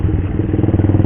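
A motorcycle fitted with a racing exhaust runs close by, its deep, loud, rapid pulsing drone rumbling for about a second.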